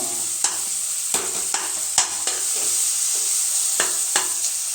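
Tomatoes and vegetables sauté for sambar in a hot pan, a loud, continuous sizzle close by, with sharp spoon clicks and scrapes as the mixture is stirred, and no talking.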